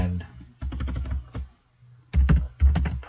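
Bursts of rapid keyboard typing, close and crisp, separated by brief pauses, with a few heavier key presses near the end.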